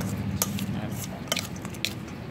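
Red ant eggs being stirred gently into a Thai koi khai mot daeng salad, soft squishy mixing with a few light utensil clinks against the bowl, close up over low background noise.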